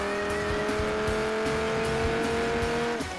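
A race car engine in Project Gotham Racing 4 holds a steady high whine with layered harmonic tones, and a tire squeal rides over it before the pitch drops slightly at the end. The sound is loud and continuous, with no talk.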